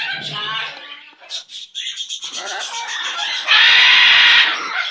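A pet bird vocalizes loudly and close by, with varied squawks and chattering calls ending in a harsh sustained screech, while a person talks softly in between.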